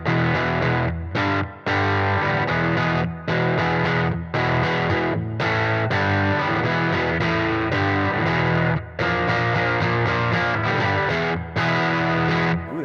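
Electric guitar played through a Fender '68 Custom Vibro Champ Reverb amp with the tremolo switched off, loud distorted chords and riffs ringing steadily with brief gaps between phrases.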